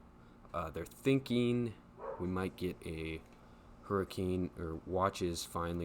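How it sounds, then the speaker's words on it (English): A pet dog barks in short, intermittent bursts in the background of a home while a person talks steadily in the foreground during a hurricane update. "Sorry if you guys can hear my dog barking."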